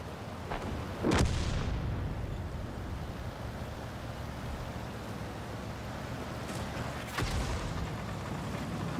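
Artillery fire in a tank battle video game: a sharp, heavy blast lands early, then a second, more distant boom follows several seconds later over a steady windy, rumbling background, with no talking.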